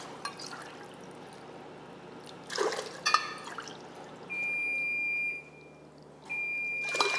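Water trickles and pours into a cooking pot in a home kitchen, soft and close, broken by a few louder clinks and two steady electronic beeps.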